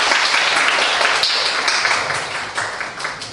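Loud, dense applause welcoming artists at a gallery artist talk, a thick hiss of many hands clapping close by that holds steady, then gradually tapers off toward the end.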